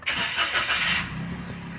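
A Toyota Wigo with a check engine light cranks for about a second with a bright whirring starter, then its engine catches and settles into a low steady idle, close and moderately loud.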